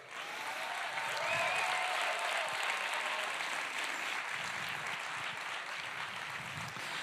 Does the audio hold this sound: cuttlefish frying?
no